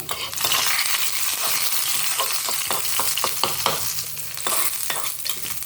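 Vadagam dropped into hot kuzhambu for a parupilladha arachu vitta kuzhambu, sizzling loudly and steadily, with clattering stirring strokes and sharp pops recurring near the pan.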